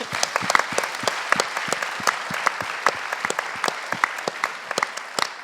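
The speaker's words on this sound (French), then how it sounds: "Je pense qu'on peut vous applaudir tous." Applause from a forum audience at a panel discussion, brisk clapping of moderate density with distinct individual claps standing out, lasting about five seconds without speech.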